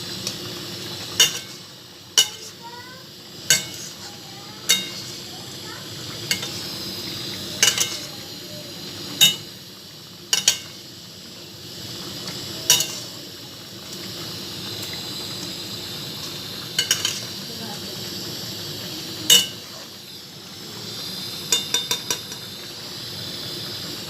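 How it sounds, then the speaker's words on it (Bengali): Cumin powder being stirred into food in a pan, with a spoon striking and scraping the pan in repeated sharp clinks every second or so over a soft, constant sizzle. "জিরে গুঁড়োটা দিয়ে একটু নেড়ে নেবো।"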